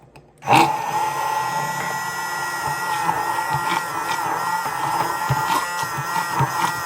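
A blender whirs steadily as it mixes mayonnaise made with freeze-dried eggs, starting abruptly after a brief pause and running loud and continuous with a few small knocks, no talking.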